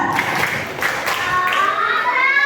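Children at an Indonesian elementary school clap together in a counting clap chant during a morning exercise event, with bursts of hand claps mixed with excited children's voices.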